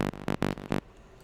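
A raw psytrance bass stab from an init synthesizer patch: five short, punchy buzzing hits in a quick uneven rhythm, loud and dry, followed by near silence.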